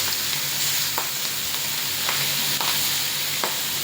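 Vegetables sizzling steadily in hot oil for a Bengali potato chicken fry, a dense continuous frying hiss with occasional stirring scrapes, close and fairly loud with no voices.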